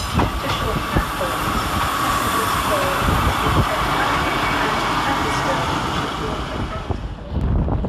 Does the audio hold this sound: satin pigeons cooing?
no